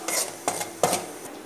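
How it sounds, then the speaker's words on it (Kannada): Wheat flour frying in about two spoons of oil in a pan, stirred with three quick scraping strokes of a spoon, close and distinct. "ಈ ಗೋಧಿ ಹಿಟ್ಟನ್ನು ಫ್ರೈ ಮಾಡೋಣ."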